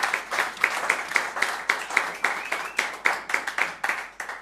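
Audience applauding at a graduation concert by an octet, with scattered individual claps standing out over a steady wash of clapping, moderately loud and continuous in a hall.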